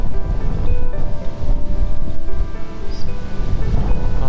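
Sea waves roll onto the shore beside a beach villa at Hua Hin, a loud, steady surf wash with low rumble and some wind buffeting on the microphone, no voices heard.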